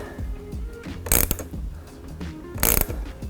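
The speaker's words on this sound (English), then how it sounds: "take your size 10 socket, and we're going to just further tighten this dual bracket in place" A socket wrench ratchets in two short bursts while tightening a light bracket on a Ford Bronco hood, with quieter mechanical handling in between. It sounds close up.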